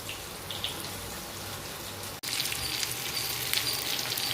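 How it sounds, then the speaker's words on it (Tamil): Seer fish fries in plenty of oil with a steady, close hissing sizzle that cuts out briefly midway, then returns slightly brighter. "இப்போது மீன் வெந்துட்டே இருக்குது"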